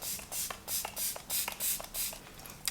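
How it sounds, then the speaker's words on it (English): A glowy setting spray mists in about six quick hissing pumps at an even rhythm, each a short, bright, close burst of fine spray with no talking. "as a last step, we have this glowy setting spray"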